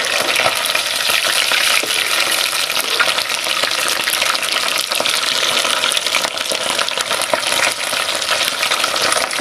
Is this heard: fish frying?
yes